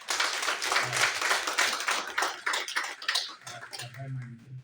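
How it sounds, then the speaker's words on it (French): An audience at a tuberculosis conference claps, a lively patter of many hands near and fairly clear, with voices speaking over the tail end. "Si vous pouvez mettre vos mains ensemble pour l'applaudir pour le travail."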